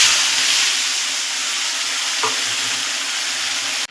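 White mustard paste with pointed gourd stirred in a pan, giving a steady, close frying hiss and sizzle with soft scraping, alone and unbroken until a sudden stop at the end.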